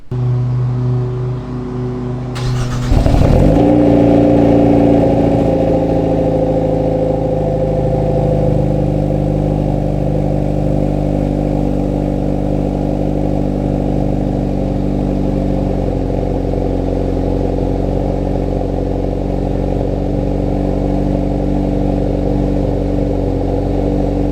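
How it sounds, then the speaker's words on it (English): A Hyundai Veloster N cold-starts in N mode inside a garage: a brief starter crank, a loud catch and flare, then a steady, rumbling high idle that holds loud and close, echoing in the enclosed space. "the first cold start with this thing inside the garage with this type of setup"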